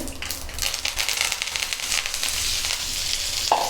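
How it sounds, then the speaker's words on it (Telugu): Curry leaves dropped into a hot pan with cumin and coriander seeds give a steady, close crackling sizzle that holds throughout with no one talking. "ఇప్పుడు మనం కరివేపాకు వేసుకుంటున్నామండి"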